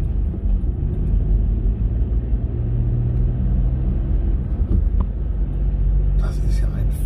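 Steady low rumble of road and engine noise inside a moving VW Polo (AW), continuous and fairly loud, with a faint click near the end.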